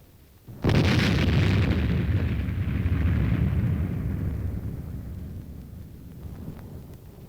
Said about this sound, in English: A mock mushroom cloud rises high in the sky as simulated atomic explosions add realism to the maneuver.